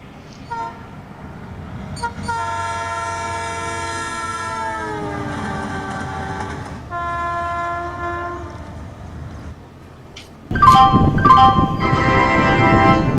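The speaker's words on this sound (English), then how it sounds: "The train will leave at 12:05." A train horn sounds in long sustained blasts over the rumble of a passing train, followed by a louder burst of rolling wheel and carriage noise close by.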